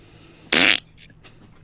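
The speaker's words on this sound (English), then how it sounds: "Stop farting." A loud, brief fart bursts out alone for about a quarter second, followed by faint background sounds.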